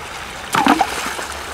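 Water splashes as hikers wade across a flooded river on a forest trail, a brief burst of sloshing near the middle against a steady background of flowing water.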